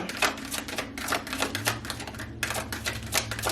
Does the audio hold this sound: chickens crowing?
no